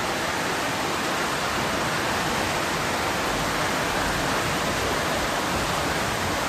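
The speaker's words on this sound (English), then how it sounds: "I love listening to the rain." Heavy downpour hissing as a dense, steady wash of rain, loud and unbroken, with no voices.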